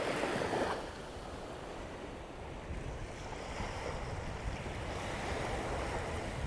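Ocean surf rolling onto sandy Bamboo Beach on Koh Lanta, Thailand, a continuous broad wash of breaking waves with light wind, steady and fairly distant, no voices.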